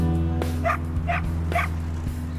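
A dog barks three times in an even rhythm, each bark short and clear against a steady low hum, with no talking.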